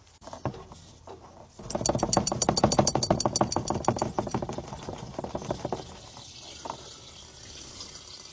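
Diesel fuel pours into the tank of an abandoned 70-year-old bulldozer in the Australian bush, a steady liquid stream building after a faint start and gurgling for several seconds before tapering off, close and fairly loud.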